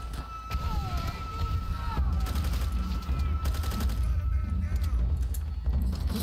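Automatic gunfire rattles in Call of Duty: World at War, with repeated rapid bursts of shots over a rumbling battlefield background.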